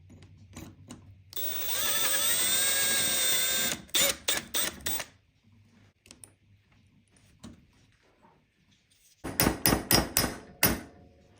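A hand tool reams a part during an RC car rebuild, a steady high whirring grind lasting a couple of seconds, followed by quick sharp metallic taps and clicks in clusters, close and fairly quiet.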